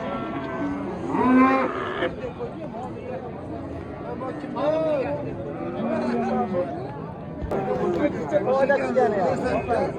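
Several cows moo loudly and close by, long drawn-out calls repeating through a crowd of people talking at a livestock market in Chuvama.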